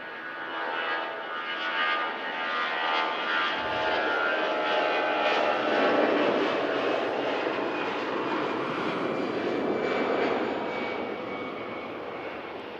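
An airliner taxis past at Manchester Airport, its engine roar building steadily to a broad, loud drone midway and then easing slightly, with no talk over it.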